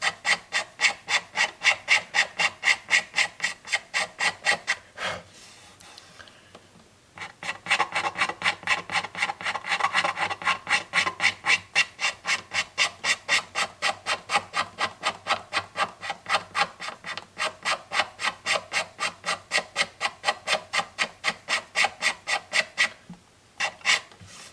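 Hardened filler on the cracked top of a Martin guitar is leveled by steady back-and-forth scraping or rasping, a close, loud, even rhythm of strokes with one brief pause partway through and no talking.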